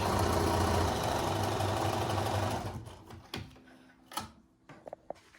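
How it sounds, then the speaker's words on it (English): A sewing machine runs steadily, stitching along a fabric edge for a Goose Tracks quilt block, then stops about halfway through, followed by a few faint clicks and handling taps in near silence. "I just sew right there on the edge."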